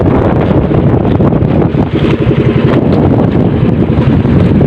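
Strong northeast monsoon wind on a fishing outing roars and batters the microphone close up in a loud, continuous rush, briefly easing for a moment midway.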